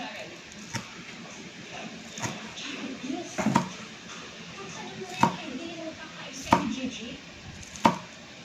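Spring onion leaves chopped small with a knife on a board, a few spaced sharp knocks over soft cutting sounds, close, with faint background voices.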